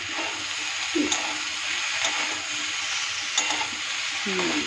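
Mixed vegetables frying in a pan as the lid comes off, a continuous close sizzle with occasional stirring scrapes and clinks, and no talking.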